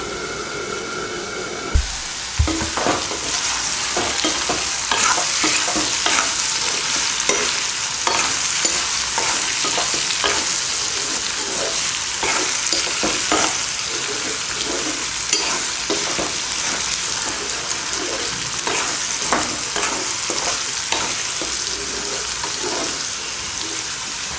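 Potato pieces for a fried potato side dish sizzle steadily in a pan, broken by frequent rhythmic scrapes and clatters of stirring, close and fairly loud with no talking.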